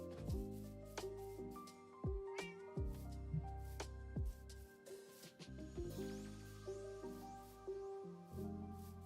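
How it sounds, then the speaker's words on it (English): A cat in the Minecraft video game meows repeatedly with short rising and falling calls, some overlapping, quiet and alone over about nine seconds. "Now, I guess this was the cat that got hit."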